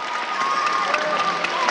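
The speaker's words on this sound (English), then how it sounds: "Big round of applause." Crowd applause and light cheering after a dismount at a college acrobatics and tumbling meet, a steady wash of clapping throughout with a faint tone in the background.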